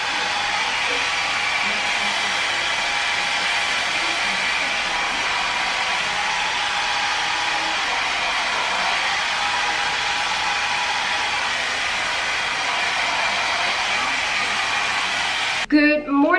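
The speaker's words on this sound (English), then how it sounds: "I just blow dried my hair, as you could see." A hair dryer blowing at home, a loud, steady broadband whoosh that runs unbroken for about sixteen seconds before cutting off abruptly at the end.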